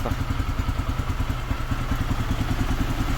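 A Lifan KPX 250 motorcycle engine idles steadily while warming up before its first oil change, a continuous close-up putter with an even low pulsing rhythm and no talk.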